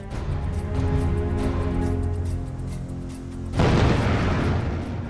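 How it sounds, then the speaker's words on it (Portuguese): A low, sustained rumble that suddenly erupts into a loud, broad explosion blast at the Fukushima nuclear plant's reactor 3 building, roaring on after the burst. "Uma explosão maior ainda destrói o prédio que abriga o reator número 3"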